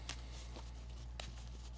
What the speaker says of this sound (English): All right, let me shuffle this up